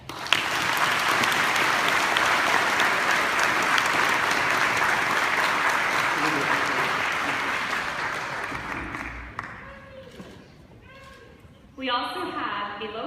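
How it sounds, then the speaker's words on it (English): Sustained audience applause at a live-streamed community event about the Bosnian Genocide, a dense roar of many hands clapping that fades out after about nine seconds, followed by a speaking voice. "I think that deserves a round of applause."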